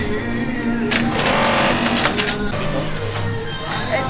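Industrial sewing machines stitch garments on a busy denim production line in a clothing factory, a steady close mechanical whirring and clatter that runs without a break, with voices talking over it.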